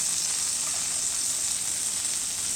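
Garlic and ginger frying in melted butter in a pan: a steady, bright sizzle holds at an even level throughout, close and without pauses.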